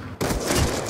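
Gunfire in Call of Duty: Black Ops 2, a sudden burst of loud, dense shots that starts abruptly and keeps going to the end, with no voices.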